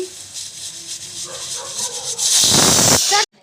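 A pressure cooker lid is opened on freshly cooked dal fry, letting out a loud, close burst of steam hiss that lasts under a second, after quieter kitchen sounds with some faint talk.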